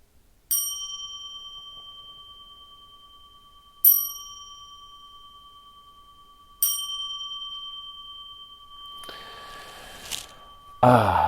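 Three clear bell dings ring out one by one, spaced a few seconds apart, each ringing on and fading, followed by rustling and handling noise.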